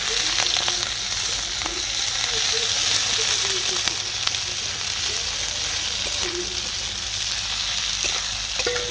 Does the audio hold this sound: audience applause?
no